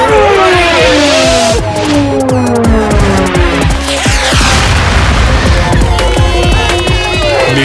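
A loud cartoon missile explosion booms and bursts with dense crackling debris, sustained and chaotic throughout, with no talking.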